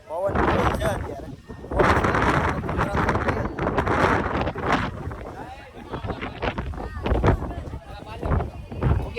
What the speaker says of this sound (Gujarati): પવન છે અત્યારે